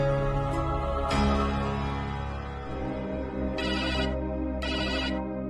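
Mobile phone ringtone playing when a mother calls, a loud, steady melodic tone repeating its phrase for several seconds with no talk over it.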